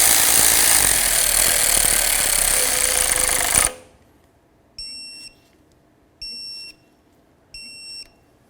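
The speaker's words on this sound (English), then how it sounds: "Start in all 3 of your bolts, and then we'll snug them up and torque them to 106 inch-pounds." Bolts are tightened on a Ford Expedition hub actuator: a loud power tool whirs steadily for nearly four seconds, then three short beeping pulses follow in a quiet garage.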